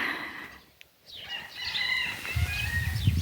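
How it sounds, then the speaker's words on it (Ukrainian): A rooster crows at a distance over outdoor ambience, the call rising and wavering, with low rustling noise near the end. "Півник також вітає вас"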